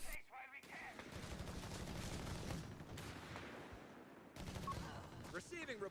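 Rapid automatic BAR fire trading with scoped G43 rifle shots in a Company of Heroes 3 infantry skirmish, a dense continuous crackle of gunfire lasting throughout with brief pauses, voices faintly mixed in.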